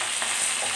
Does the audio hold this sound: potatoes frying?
yes